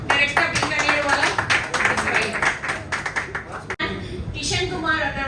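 Audience clapping at a Bikanervala restaurant outlet opening in Hyderabad, dense rapid applause for several seconds that thins out near the end, with talk over it.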